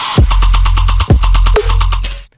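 A remix of an electronic track plays loud: a heavy, throbbing sub-bass with rapid pulsing chops and pitch drops every second or so, dense and driving.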